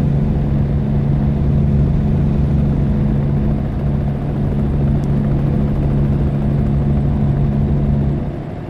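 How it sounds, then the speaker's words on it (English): Helicopter in American Truck Simulator, a steady close rotor and engine drone with strong low humming bands, holding at constant loudness for about eight seconds before easing slightly at the end. "The helicopter's sitting there. I'm guessing that's the police."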